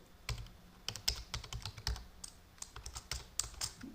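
Steady typing on a computer keyboard while writing Python code, an irregular run of close, crisp key clicks with brief pauses, no voice over it.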